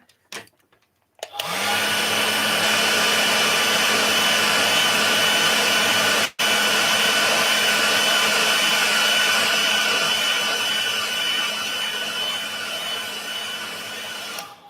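A handheld dryer blowing on paint on a miniature cactus: a loud, steady whirring hum that starts after a second of quiet, cuts out for an instant near six seconds, then runs on, fading slightly toward the end.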